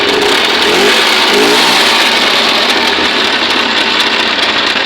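A small carbureted petrol engine runs steadily and loud at a rough mid-pitched drone with a slight rev, heard alone and close throughout.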